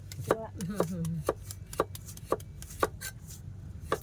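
A knife slices bamboo shoots on a board in a steady rhythm of crisp, evenly spaced chops, nearby and moderately loud, with a brief vocal sound early on.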